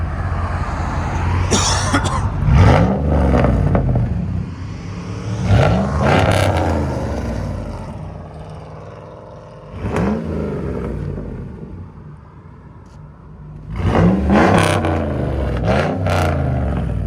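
A 2007 RAM 1500 pickup with a 4.7L V8 and straight-pipe exhaust with tucked and dumped tips revs several times, each rev a loud, rising burst of raw exhaust roar, separated by a rumbling idle.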